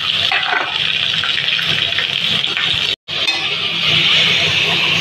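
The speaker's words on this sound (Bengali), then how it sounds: "অল্প একটু জল দিয়ে দিলাম।" Water poured into lentil spices frying with onion paste and whole garam masala, a steady, loud gushing sizzle that runs almost the whole time apart from a short dropout near the middle.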